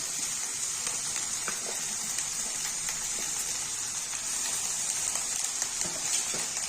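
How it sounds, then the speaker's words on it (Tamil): Onions and spices sautéing in a pan as a handful of washed moringa leaves goes in, a soft steady sizzle with faint crackles and light stirring, quiet and close with a bright hiss on top. "இப்போ இது வதங்கிக்கிட்டு இருக்கு"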